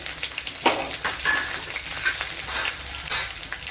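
Green chillies with garlic and ginger fry in a pan, giving a steady, close sizzle and crackle with a few sharper bursts of stirring or scraping, and no voices.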